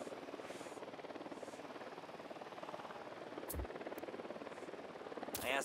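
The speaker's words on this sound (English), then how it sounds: "Chopper incoming." A helicopter approaches in the video game Ghost Recon Wildlands, a steady rhythmic rotor chop throbbing throughout at moderate loudness, with a few brief sharp clicks and thuds breaking in near the end.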